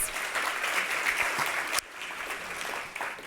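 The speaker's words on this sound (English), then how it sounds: "Let's give him a round of applause." Applause for the Cabinet Secretary for ICT of Kenya at a digital economy event, a dense, steady audience clapping that dips abruptly partway through, then carries on at a slightly lower level.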